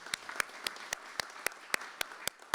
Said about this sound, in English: give a round of applause to Ron for putting this together